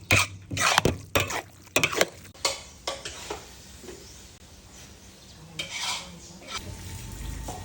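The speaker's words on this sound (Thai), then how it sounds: "เดี๋ยวเรามาผัดกันเลยนะเราใส่มีลงไปเลย" Rice noodles for Thai red coconut-milk fried noodles are tossed and scraped in a hot pan, a few sharp clanks of a utensil at first, then a soft sizzle that continues alone.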